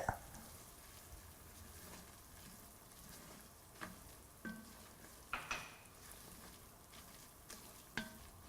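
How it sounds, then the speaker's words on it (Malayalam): Cardamom and cumin powder are stirred into a sweet beaten-rice mixture in a pan, making a soft, quiet scraping with a faint sizzle and scattered light clicks of the spoon against the pan. "എടുത്തു വച്ചിരിക്കുന്ന ജീരകപ്പൊടിയും കൂടി ഇട്ട് ശരിക്കും മിക്സ് ചെയ്യുക"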